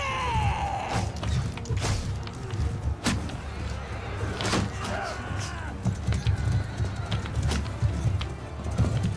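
Horse archers charging in a medieval battle video game, a continuous rumble of hooves with scattered thuds and clashes, steady and fairly loud under occasional voices.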